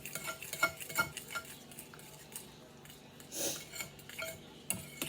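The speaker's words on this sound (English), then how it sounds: "All right, so you mix that good." Utensil scraping and clinking against a bowl while a low-carb bread mixture is stirred, with irregular close taps and scrapes and a brief louder swirl partway through.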